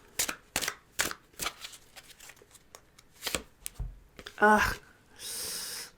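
Tarot cards being shuffled and pulled make a run of quick crisp riffles and snaps, close and fairly quiet, ending in a longer shuffling rush, with soft breaths between.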